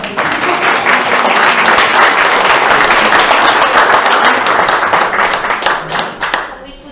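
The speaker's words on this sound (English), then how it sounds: "I clap for you." Several people clap their hands together briskly for a few seconds indoors, loud and close, the claps turning sparser and more uneven as it winds down.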